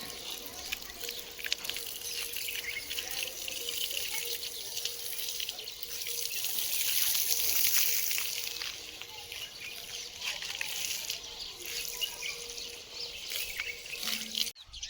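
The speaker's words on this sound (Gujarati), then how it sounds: "પછી આપણે આવી ગયા આપણા મકાનમાં પાણી છાંટવા માટે." Water is sprinkled over a house under construction, a steady close hissing spray and splash that swells in the middle and then eases, with faint background hum.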